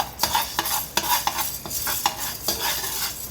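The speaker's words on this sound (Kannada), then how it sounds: "ಮೆಣಸಿನಕಾಳು ಹಾಕ್ತಾ ಇದ್ದೀನಿ. ಇದನ್ನು ಚೆನ್ನಾಗಿ ಲೋ ಫ್ಲೇಮಲ್ಲೇ ಹುರ್ಕೋಬೇಕು." Black peppercorns dry-roasting in a pan over a low flame, stirred with a utensil that gives steady scraping and rattling with sharp clicks roughly every half second and a faint sizzle beneath, close and alone.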